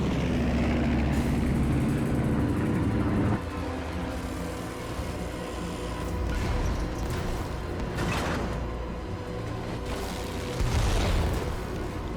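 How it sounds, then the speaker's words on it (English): Heavy bomb blasts in the Battlefield 5 campaign, a deep continuous rumble with loud booming bursts swelling near the middle and end, close and dominant throughout. "Bombs."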